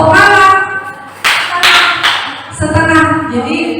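A classroom group claps in the 'tepuk malam' night-clap pattern, a few sharp loud claps in a short burst, framed by a voice speaking before and after.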